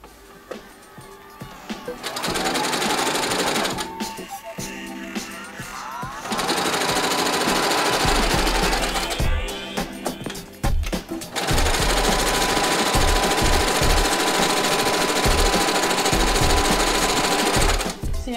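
A sewing machine runs in long loud bursts, stitching small hospital gowns for teddy bears, its rapid mechanical chatter starting and stopping with short pauses between runs.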